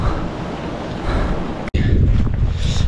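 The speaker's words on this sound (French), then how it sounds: "Donc là il y a le vent qui souffle un peu" Wind rushes steadily across a mountainside at 1800 metres, a broad continuous roar that cuts out for an instant midway, then resumes just as strong.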